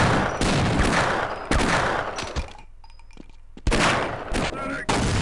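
Loud magnum revolver shots boom in the video game Half-Life, a few heavy blasts with a brief quieter gap between them, set amid dense in-game noise.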